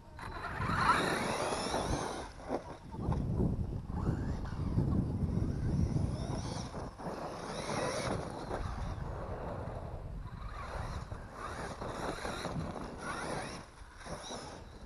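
A Traxxas Savage HP 6S radio-controlled car runs with its central differential turning, making a buzzing mechanical whir that rises and falls with the throttle, fairly close and with no talking over it.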